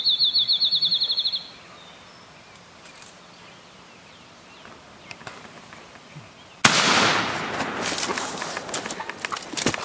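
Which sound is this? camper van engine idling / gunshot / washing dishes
gunshot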